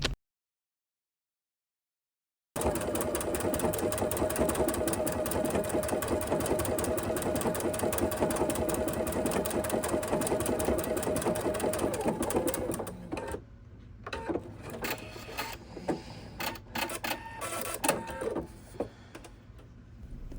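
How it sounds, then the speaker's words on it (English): A sewing machine stitches around the borders of a sawtooth quilt block on a sweatshirt, running a fast steady whir for about ten seconds after a short silence, then stopping and starting in short bursts. "Now we need to sew around the borders to finish it up."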